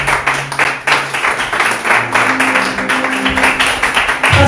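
A church congregation claps together in a dense, steady stream of applause, loud and close, with a low hum of voices running underneath.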